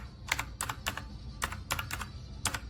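Someone types on a Redragon K617 Fizz 60% wired RGB gaming keyboard, giving crisp, close keystroke clacks in short irregular bursts with brief pauses between them.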